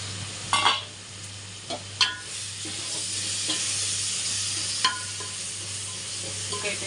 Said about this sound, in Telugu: మిక్స్ చేసి కాసేపు కుక్ అవనిద్దాం